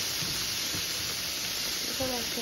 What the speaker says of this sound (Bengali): পাশের চুলায় আমি বাটার দিয়ে একটু চিকেন আর লেটুস পাতা একসাথে ভেজে নিচ্ছি